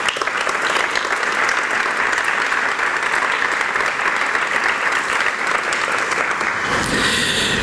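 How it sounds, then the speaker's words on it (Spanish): Sustained, loud applause from an audience at the launch of a Costa del Sol espetos contest, an even wall of clapping that holds throughout and fades slightly near the end. "Para ello quiero un aplauso"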